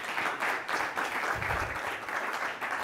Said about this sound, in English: And I welcome applause, too.